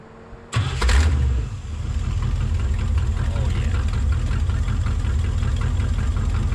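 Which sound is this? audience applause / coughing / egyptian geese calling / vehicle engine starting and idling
vehicle engine starting and idling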